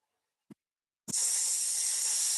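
A long, steady breathy hiss of a forceful exhale during a qigong breathing exercise, rising abruptly after a short soft breath and holding loud and even to the end, close and alone.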